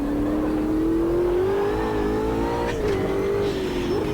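A race car engine in Automobilista 2 climbs steadily in pitch as it accelerates, briefly dipping near the end before rising again, loud and continuous with no talking.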